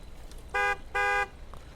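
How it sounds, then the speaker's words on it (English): Two loud honks of a car horn in the Friday the 13th video game, a short blast followed by a longer one, crisp and close over faint background ambience. "So you can honk the horn of the car."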